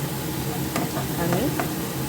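Oil fries in a pan with a steady sizzle and hiss, broken by a few light scraping stirs of a spoon, close and constant.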